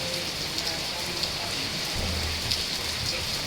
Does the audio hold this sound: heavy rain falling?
yes